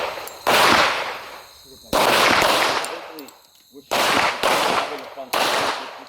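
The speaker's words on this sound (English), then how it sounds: "Fire a couple rounds into the target with the gun screwed up." Pistol shots fired into a target on a shooting range, loud and close, in bursts of several sharp cracks with short pauses between volleys, the echoes trailing off.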